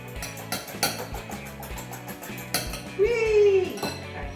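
Eggs being scrambled in a bowl with a utensil, producing quick, rhythmic metallic clinks and taps against the dish, close by, with a brief high vocal sound partway through.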